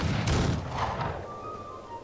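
Musket gunfire crackles during a skirmish in the video game Rise of Liberty, a dense burst of overlapping shots up front that thins into a fainter ringing tail, with no talk over it.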